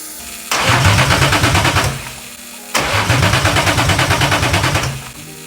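A BMW M52 engine swapped into a Volvo 240 cranks twice without catching, each attempt a loud, rapid rhythmic churning of the starter lasting over a second, separated by a short quiet pause.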